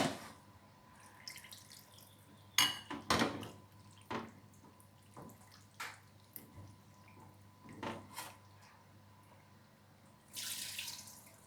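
Chicken pieces rinsed under a running tap after soaking, intermittent splashes and water bursts with quiet gaps, close and moderately soft, with a longer gush near the end.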